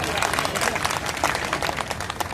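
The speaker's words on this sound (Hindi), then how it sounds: "तो जितने लोग ताली बजा रहे हैं" Crowd at a social justice rally in Sultanpur claps together, a dense, steady patter of many hands, fairly loud and continuous, with voices mixed in.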